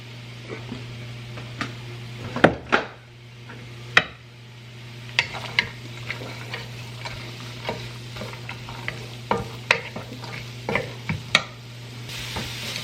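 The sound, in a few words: onion, garlic, carrots and celery sautéing in oil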